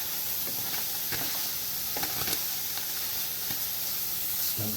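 Ground turkey frying in a pan with garlic and a little dried oregano, sizzling steadily while a spoon stirs and scrapes through it with intermittent clatters, no voices.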